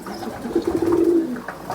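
A kept pigeon gives a single soft, drawn-out coo, close and fairly quiet, with faint background noise and no talk.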